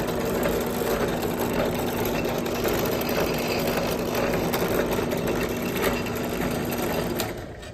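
A drill bores a 3/32 inch hole in metal while a snow blower is being set up, giving a loud, continuous, close whine that holds steady for several seconds before easing off at the end.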